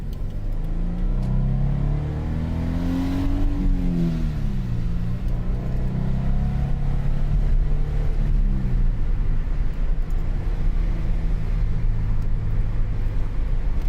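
A Toyota GT86 engine fitted with an HKS Premium Suction intake drones steadily and climbs in pitch as it accelerates uphill, rumbling continuously from inside the cabin without any talking.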